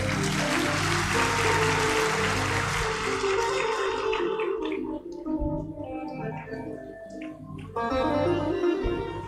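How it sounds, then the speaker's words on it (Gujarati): Farewell applause and clapping at a devotional Govardhan Puja gathering, a dense, loud wash of many hands that thins and fades midway before a fresh burst returns near the end. "વિદાયની તાળીઓના નાદ સાથે એક વખત"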